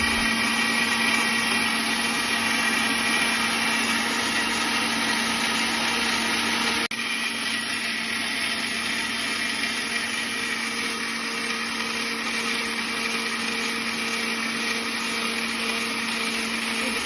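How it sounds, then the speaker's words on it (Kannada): A mixer grinder whirs loudly and continuously as it grinds cooled, fried spices into a fine paste in its jar, a steady high-pitched motor drone with one brief shift in pitch partway through. "ಆರಿದ ಮೇಲೆ ಜಾರ್ಗೆ ಹಾಕಿ ಸಣ್ಣಗೆ ರುಬ್ಬಿ ಇಟ್ಕೋಬೇಕ್ರಿ ಇದು."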